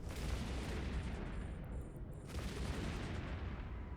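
Ship guns in Eve Online fire as a dense, continuous barrage of booming blasts, loud and steady throughout with no voices.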